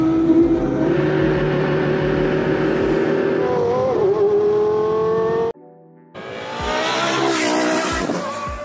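A McLaren Solus track car's naturally aspirated 5.2-litre V10 racing engine screams at high revs past 10,000 RPM, pitch rising and falling, cuts out abruptly, then roars back up with a snarling rev.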